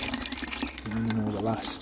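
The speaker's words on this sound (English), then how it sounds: "I'll just run a bit of this water back through the filter." Water running back through a K1 pond filter with its valve open while cleaning out a daphnia culture setup, a steady trickling flow under brief talk.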